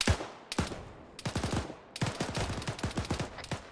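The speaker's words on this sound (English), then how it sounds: "he's shooting at us." Rapid bursts of enemy gunfire in a military video game battle, sharp cracking volleys firing in quick clusters with brief gaps, loud and close throughout.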